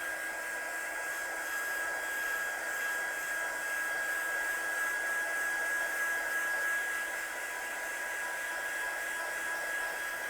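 A heat gun blowing steadily on a handmade card, a constant airy whoosh with a thin high whine, close and even for about ten seconds with no talking.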